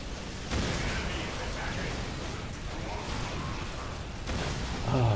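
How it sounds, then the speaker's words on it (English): Continuous rumbling battle noise from the Dawn of War video game, dense and loud throughout with booming explosion bursts swelling near the start and again toward the end, no talk. "Ah, beautiful explosions."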